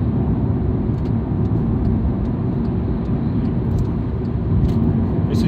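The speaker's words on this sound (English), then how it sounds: "Now let me just get past this bit of traffic here." Steady broadband road rumble and tyre roar from inside a moving car passing through traffic, continuous and fairly loud, with no speech over it.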